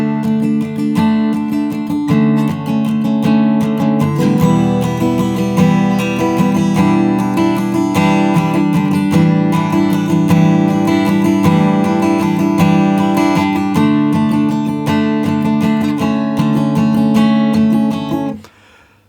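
The verse of a song is strummed on a guitar with simple, steady chord changes, played clearly up close with no voices, until the strings are damped at the end.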